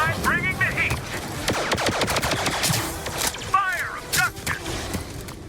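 Rapid blaster bursts from the mobile shooter Star Wars Hunters crackle in dense volleys over a busy game soundscape, with laser-like sweeping zaps and a voice speaking over the action.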